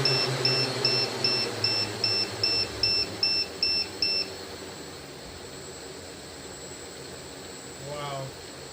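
Low-voltage battery alarm on a Xaircraft SuperX 650 octocopter drone, about ten evenly spaced high electronic beeps over the hiss of running motors, followed by a brief burst of talk near the end.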